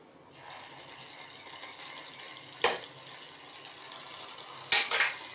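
Roasted cashews tipped into a pot of rice and coconut payasam and stirred, soft spoon scraping under a faint hum, with two sharp metallic clinks of ladle against the vessel near the middle and end.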